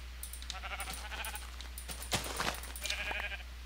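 Sheep in a modded Minecraft-style video game bleat in several overlapping calls over a steady low hum, with a sharp hit sound midway, fairly quiet and without speech.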